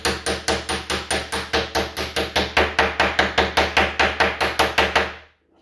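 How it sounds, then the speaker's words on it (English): Steady hammer strikes drive small cleats into a pre-drilled hole in a cedar chest, about twenty sharp, evenly spaced blows in quick rhythm, close and loud, stopping abruptly at the end. "I've got these little cleats here, and these just hammer in now that I've got that hole drilled"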